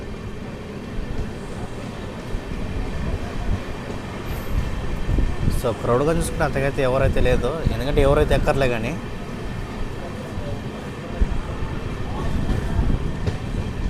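An Amrit Bharat Express stands at Ongole station with a low rumble and hum of the train and platform, while someone talks over it.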